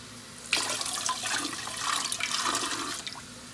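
Tap water runs steadily into a canning pot holding jars for canning salmon, a continuous broadband splashing rush that starts abruptly and keeps pouring for about three seconds at moderate, close level.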